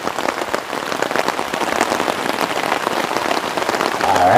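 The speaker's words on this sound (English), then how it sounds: "there's the rain" Heavy rain from a storm pours steadily onto a hammock campsite, a dense close patter of drops holding loud and unbroken throughout, with no voices.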